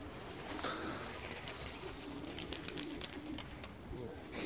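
Pigeons coo softly at a coop, faint low burbling calls spread across the stretch with light wing flutters and patter in the background, quiet and somewhat distant.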